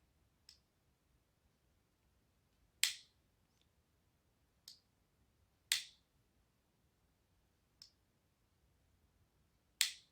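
A rifle trigger is pulled during laser dry firing, giving six crisp, isolated clicks spaced about two seconds apart in near silence.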